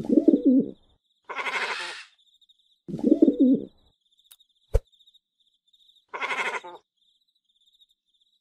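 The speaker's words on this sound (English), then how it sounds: "Pigeon." Pigeon cooing heard close and clear in short repeated bursts, low throaty coos alternating with brighter calls, separated by silences, with a faint steady high background tone and a single sharp click midway.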